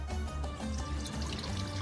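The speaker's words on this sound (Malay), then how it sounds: "Kita masukkan air." Water pours steadily into a wok for steaming a siakap (sea bass), a continuous close liquid rush lasting about two seconds with no talk over it.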